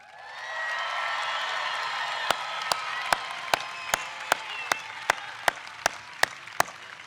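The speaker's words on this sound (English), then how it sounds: "Seniors, one more round of applause." A stadium crowd at a St. Joseph High School commencement applauds the graduating seniors. Broad sustained clapping and cheering builds in, while a series of sharp, evenly spaced loud claps rings out over it in the second half.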